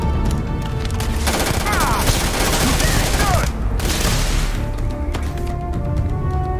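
Rapid, continuous gunfire from a weak gun in the video game Starfield, dense repeated shots running nearly the whole time with a brief dip midway, loud and up close.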